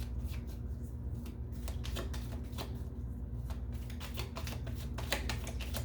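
Tarot cards are handled and shuffled close by, producing a dense run of quick papery riffles and flicks over a constant low hum.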